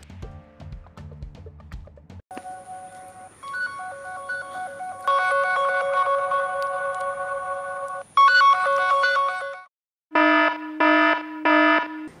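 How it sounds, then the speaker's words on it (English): A phone rings out a loud electronic find-my-device alarm tone, rising through layered beeping patterns and ending in repeated bursts, with no voices. "tap on Play Sound, and this makes it easier to find your device"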